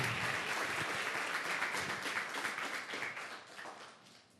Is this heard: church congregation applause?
yes